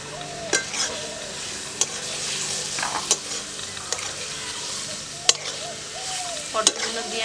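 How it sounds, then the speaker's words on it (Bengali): Pointed gourd (potol) cooking with spices and a splash of water in a pan gives a steady close sizzle, with sharp spoon-on-pan scrapes and clinks every second or so as the pieces are stirred. "পটলগুলো দিয়ে আমি 1 মিনিট মতো কষিয়ে নেব।"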